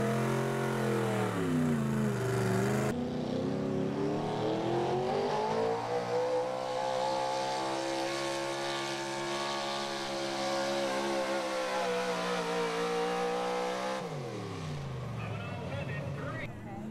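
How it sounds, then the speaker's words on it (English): A small-block 4x4 pulling truck revs hard at an outdoor sled pull in Fishersville, Virginia, its loud sustained engine note climbing and holding high RPM for most of the run before dropping off near the end, with an announcer talking over it. "the truck came to life, ran a ton of RPMs, and just went down the track so smooth"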